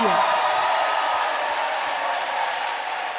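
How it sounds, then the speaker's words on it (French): A warm studio audience on a French evening variety show applauds, a moderate, even patter of clapping that fades slightly toward the end. "ce chaleureux public en ce studio qui va s'applaudir"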